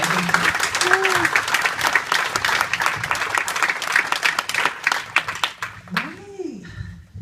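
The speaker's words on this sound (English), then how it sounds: "let's give her a big round of applause" A crowd breaks into a big round of applause that stays steady and full for several seconds before tapering off, with a voice speaking over the tail end.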